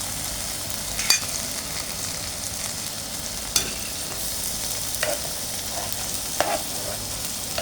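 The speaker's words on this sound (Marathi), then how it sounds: "आणि खूप छान परतून घ्यायचं हे, खूप छान एकजीव होईपर्यंत" Roasted eggplant and cooked onion sauté in a pan, a low steady sizzle with several sharp scrapes and taps of a spatula stirring the mixture.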